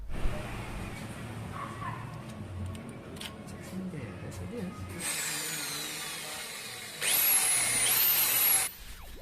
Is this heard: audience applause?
no